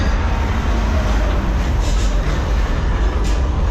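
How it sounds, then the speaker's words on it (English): A loud, continuous rumble of a runaway subway train effect on the Universal Studios Hollywood backlot tour, with deep roaring noise and faint rattling that never lets up. "That sounds a lot like a runaway subway train!"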